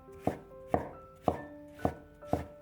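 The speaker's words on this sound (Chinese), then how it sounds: "然后改刀切成细丝，这个丝尽量切细一些" Knife slicing zucchini into thin strips on a board, five crisp, evenly spaced chops about half a second apart, close and clear with no talk.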